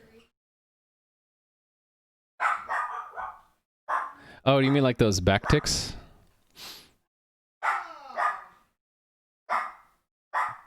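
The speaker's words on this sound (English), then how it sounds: "The dog's barking" A dog barks in short bursts a few times at moderate distance, mixed in with someone talking during a programming session indoors.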